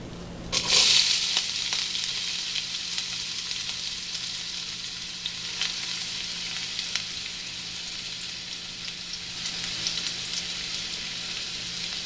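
Onions drop into hot oil for mutton curry with a sharp initial burst, then settle into a steady, even sizzle that carries on close and unbroken.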